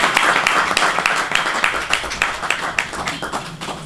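Applause for Nigeria's new Minister of Defence at an official assumption-of-office ceremony: a dense, sustained round of hand clapping from a sizeable crowd that fills the whole stretch at steady loudness, with no voices over it.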